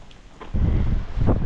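Wind buffets the microphone at the northern tip of Australia, a low rumbling gust that starts faint and quickly swells into a loud, steady roar for the rest of the moment.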